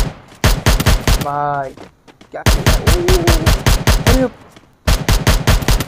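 Video game gunfire comes as rapid, loud automatic bursts of evenly spaced shots that stop and start several times, while someone talks excitedly between and over the bursts.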